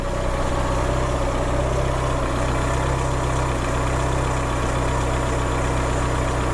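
A Citroen Saxo engine idles after new spark plugs, with a steady, even low hum and a faint tick, close and continuous with no voices.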